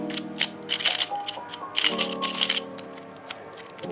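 A Pyraminx puzzle box is handled and opened, giving a quick series of close crisp plastic clicks, taps and rattles in two bursts.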